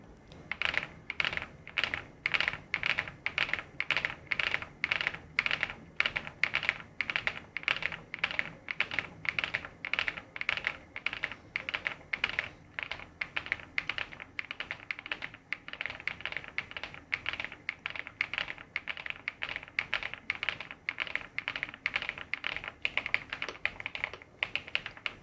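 Typing on an Epomaker Galaxy100 RGB backlit keyboard, a long run of close, crisp keystroke clacks in a quick, fairly even rhythm with brief pauses, no talking.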